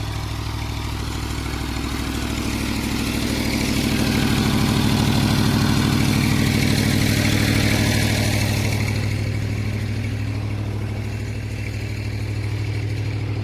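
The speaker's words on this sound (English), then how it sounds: "So, beast of a pump down here." A large engine-driven pump pumps water out of a pond at a work site, a loud, steady low engine drone heard up close that swells slightly midway.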